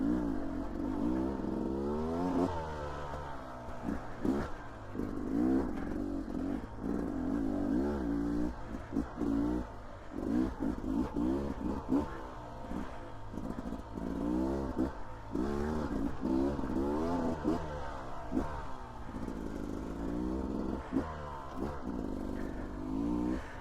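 A 2024 Beta 300 RR dirt bike with a rejetted carburetor and aftermarket hand guards rides a shared trail at sunset between Greenhorn and Mahoney Ridge, Idaho. Its engine revs close and loud, rising and falling continuously through throttle changes with no talk.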